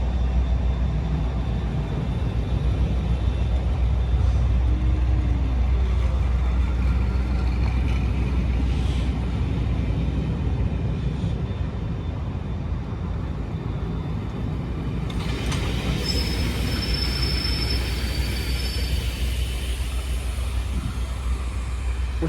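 Train hauling intercity carriages rumbling past, a steady low continuous roar with rolling noise throughout and a higher squeal appearing later.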